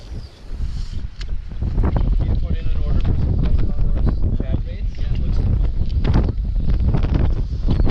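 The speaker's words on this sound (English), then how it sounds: "It is super windy today, southeast at 20 to 25 miles an hour." Strong southeast wind gusting at 20 to 25 mph on a Minnesota lake during bass fishing, loud, close rumbling buffets against the microphone that swell and ease continuously.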